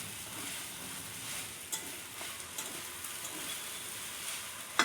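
Sauce and ingredients sizzling in a pan while cooking chicken pasta at home, a steady close frying hiss with a few stirring clicks and no voices.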